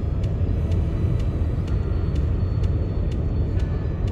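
Steady, loud road rumble and tyre roar inside a camper van cruising on a motorway with lane-keeping steering engaged, with faint regular ticks repeating about every half second.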